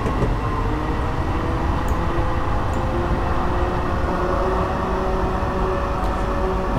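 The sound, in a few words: F59PHI train braking in video game Train Simulator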